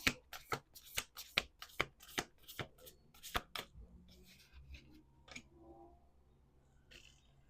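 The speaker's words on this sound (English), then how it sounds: "Let's do 2 more shuffles." A deck of cards is riffled and bridged several times in quick succession, crisp close-up flutters, followed by softer handling and a few light taps.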